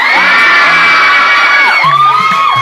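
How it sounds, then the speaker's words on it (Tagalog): A crowd at a block screening of a Filipino film shouts and cheers loudly and continuously, with high-pitched whoops and sustained yells rising and falling for a few seconds. "Tsaka isa po malakas sigaw para kay Mami!"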